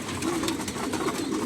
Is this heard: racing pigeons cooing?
yes